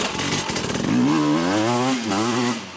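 Hard enduro dirt bike powering out of a corner, its engine rising in pitch and revving hard, loud and close for a few seconds with no talk.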